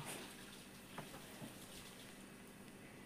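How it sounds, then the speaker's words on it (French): A toilet flush gushes faintly from a nearby bathroom, a soft, steady rush of water that runs through the whole short stretch without clear peaks. "c'est la chasse d'eau"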